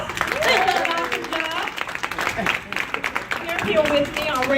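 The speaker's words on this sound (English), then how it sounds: "Give them a round of applause." An audience at a TRIO program presentation applauds students with continuous moderate clapping, while a voice talks over it and other voices rise through the crowd.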